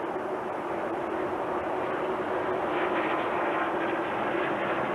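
NASCAR Winston Cup stock car engines at Texas Motor Speedway produce a steady, dense roar that stays loud and even throughout, with no distinct passes standing out.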